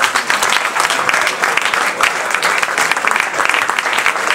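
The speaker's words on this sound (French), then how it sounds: "les applaudissements pour cette très belle équipe de Lyon Rennes Basket 35" Dense, steady applause from a crowd in a basketball arena after a Lyon Rennes Basket 35 match, loud and sustained throughout with no pauses and no voices standing out.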